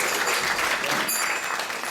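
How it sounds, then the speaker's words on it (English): A temple congregation claps for a devotee family, a continuous crowd applause of many hands, fairly loud and even, with a few faint tonal sounds above it. "So let's give a round of applause for them."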